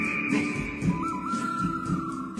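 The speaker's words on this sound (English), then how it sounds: "Whistles, calls, sound effects that play like a duel." Whistling from a 1968 recording, a sustained whistled line gliding between pitches over a busy orchestral backing.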